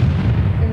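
Cannon fire in a pirate ship battle video game, a dense, continuous low booming rumble filling the whole moment at loud level with no pauses.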